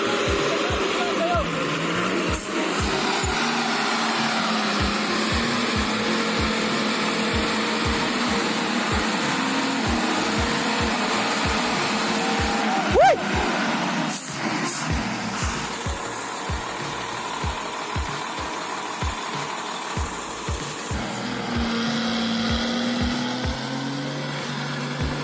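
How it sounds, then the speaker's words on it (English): A tractor stuck in deep mud revs its engine hard at full torque, tires slipping, producing a loud continuous mechanical drone with rhythmic pulses and surges, while voices are heard throughout. "The engine revs again, torque maxed out, tires slipping as it crawls upward inch by inch."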